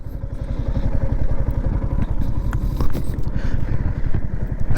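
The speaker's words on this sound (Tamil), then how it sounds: "வண்டியோட எக்ஸாஸ்ட் நோட்டுமே வந்து நல்லா இருக்குங்க" A 2025 Yamaha R15M Monster Energy Edition motorcycle idles loudly nearby, its engine and exhaust giving a steady, rapid low pulsing throb with no talk over it.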